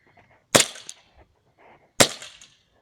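Two sharp shots from a gold-finished We-Tech M9 airsoft gas blowback pistol fired outdoors at a target about 20 to 30 feet away, each crack followed by a short metallic slide clatter, spaced about a second and a half apart.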